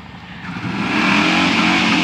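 A truck in a backyard birthday parade drives past with its engine revving, rising from a rumble to a loud sustained roar up close, with no voices heard.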